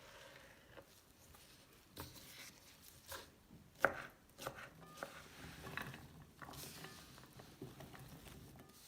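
Knife chopping honeydew melon on a board while preparing fruit chaat, a steady series of close, crisp cuts with irregular rhythm and one sharper knock near the middle.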